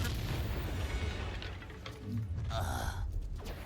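A Confringo blasting curse exploding in the game Hogwarts Legacy, a deep booming blast with rumbling low end and a few sharper bursts trailing off over a couple of seconds.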